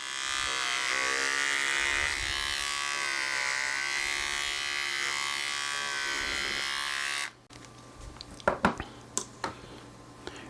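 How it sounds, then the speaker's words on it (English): Electric clippers shave fox, squirrel and raccoon fur for fly-tying dubbing, a close, steady buzz lasting about seven seconds that stops abruptly, followed by a few soft clicks and handling sounds. "I'll take my clippers and then just cut some of this out, leaving the guard hairs and everything in"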